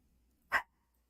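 A single short dog bark, fairly close, in an otherwise quiet room.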